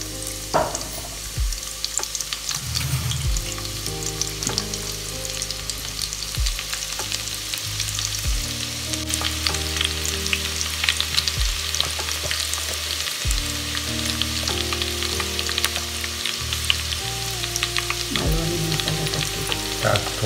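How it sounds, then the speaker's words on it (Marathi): Chopped onion and garlic fry in hot oil in a Konkan village home kitchen, giving a loud, steady sizzle that runs unbroken from start to finish over a low tonal hum, with no talk. "इथे त्यामध्ये तेल टाकून घेतलंय। आता त्यात कांदा आणि लसूण टाकला आहे।"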